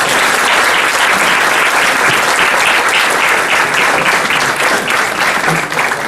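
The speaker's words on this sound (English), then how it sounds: "Round of applause." Loud, sustained applause from a large audience at a Pittsburgh State of the City event, honoring the former mayors of Pittsburgh as they stand. Dense, steady clapping fills the whole stretch with no speech over it.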